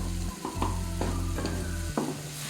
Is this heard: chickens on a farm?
no